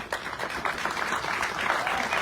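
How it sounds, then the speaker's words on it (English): Audience applause at a police recruit foundation course passing out ceremony: a dense, steady wash of many hands clapping, sustained and fairly loud throughout. "they deserve a round of applause"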